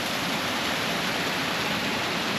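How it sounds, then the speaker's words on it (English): A small waterfall pours over a rock in Sri Lanka, making a close, steady, even rush of water that runs unbroken from start to end. "This is the waterfall."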